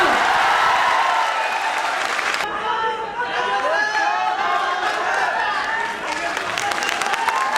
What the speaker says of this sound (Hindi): तो एक शानदार तालियां हो जाए